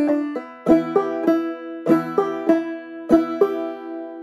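Clawhammer banjo plays the melody of a tune's A part: bright plucked notes struck in a bouncing, repeating rhythmic figure, close and clear with ringing strings and no voices.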